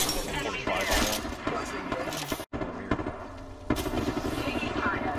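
Gunfire in the battle game Apex Legends, with rapid bursts of shots and impacts crackling under a player's voice, close and fairly loud with a brief dropout mid-clip.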